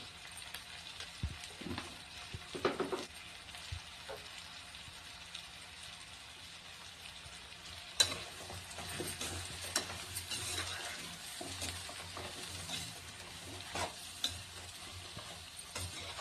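Spoon stirring drumstick and meal maker pieces with salt and turmeric in a pan for curry: soft scraping and light clinks over a faint steady sizzle, close and quiet.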